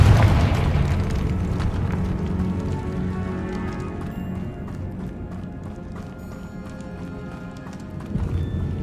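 Fire spell blast from Hogwarts Legacy: a loud burst right at the start, then a low rumble that fades over several seconds under steady game background sound.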